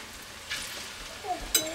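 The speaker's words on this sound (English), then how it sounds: "And you can hear it sizzle." Plantains frying in hot oil make a soft, steady sizzle, with faint stirring noises and a few brief clatters near the end. Nobody speaks.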